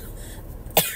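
A person coughs once, a sharp, close burst near the end of a quiet second, with faint background hum before it.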